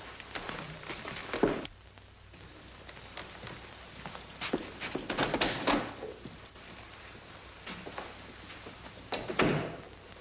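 Door sound effect in a 1946 Crime Doctor radio drama: several thuds and rattling bursts as a door opens and shuts, with footsteps between them, moderately close over a quiet background hiss.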